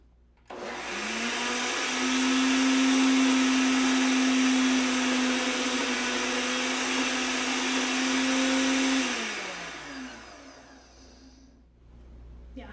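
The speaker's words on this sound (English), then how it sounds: "my blender's like, I am not made for this" A kitchen blender whirring hard on creamed spinach with cream, a loud steady motor drone that starts abruptly, holds for about nine seconds, then winds down and stops.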